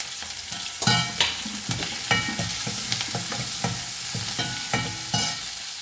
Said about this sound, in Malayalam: ചെറിയ ഉള്ളി ഇത് വഴറ്റിയെടുക്കാം